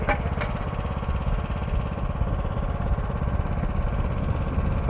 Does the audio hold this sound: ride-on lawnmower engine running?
yes